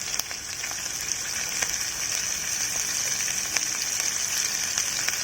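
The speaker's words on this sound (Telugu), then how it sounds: "కడాయి పెట్టి నూనె వేసి నూనెలో మెత్తలు వేసి" Dry fish (nettallu) frying in oil in a kadai, a steady, close crackling sizzle with scattered sharp pops, continuing evenly throughout.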